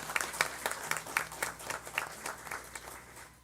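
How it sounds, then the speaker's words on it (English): A board meeting audience gives a short round of applause for two scholar athletes, with scattered claps in a loose rhythm that fade over a few seconds, moderately distant and fairly quiet in a large room. "Let's have a round of applause for these 2 scholar athletes."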